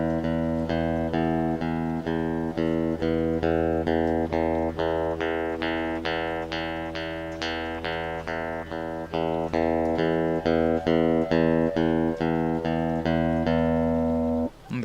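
Acoustic-style guitar strummed steadily on open, unfretted strings; a dense, even run of quick strums rings close and fairly loud with a sustained drone, ending with a brief muted thump.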